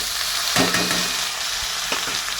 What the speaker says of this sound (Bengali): বাঁধাকপিটা দিয়ে দেবো, দিয়ে একটুখানি নাড়বো